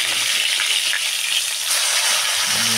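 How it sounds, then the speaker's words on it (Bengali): Fish pieces fry in a pan for a village-style masala fish curry, giving a continuous close sizzle with faint scraping and utensil touches as they are turned. "মাছগুলোকে ভেজে নিচ্ছি"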